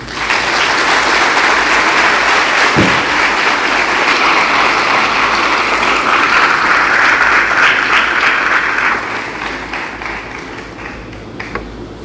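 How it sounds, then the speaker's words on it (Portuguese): A large crowd gives sustained, dense applause to honor the Lord, loud and steady for about nine seconds before easing slightly toward the end. "Vamos aplaudir o Senhor."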